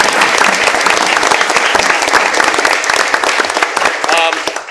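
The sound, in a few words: applause for the supporters at a school board meeting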